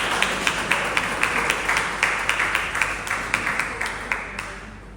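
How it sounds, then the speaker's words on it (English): A small crowd at an annual general meeting of a council on ageing gives a round of applause, with a steady patter of hands and a few louder claps standing out. The clapping fades near the end, with no one speaking. "Let them give them a round of applause together"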